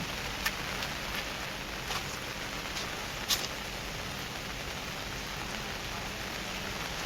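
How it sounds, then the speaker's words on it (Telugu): Steady heavy rain pours down in a deep forest in a continuous hiss, with a few sharper drops pattering close by; no voices. "ఫుల్ వర్షం అనమాట, ఫుల్ రెయిన్ బాగా గట్టిగా పడుతుంది."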